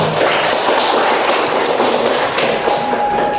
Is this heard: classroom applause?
yes